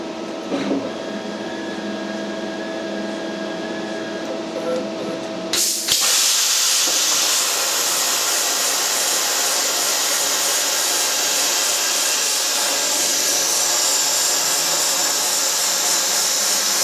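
A CNC plasma cutter slots steel box section: after a few seconds of quiet machine hum and clicks, a loud steady hiss and roar of the cutting arc starts abruptly and keeps going close by to the end.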